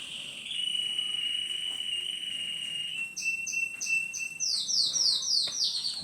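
Birds chirp and whistle outdoors in a garden, clear repeated high tweets building into overlapping rapid trills toward the end, with insect-like buzzing behind and no one talking.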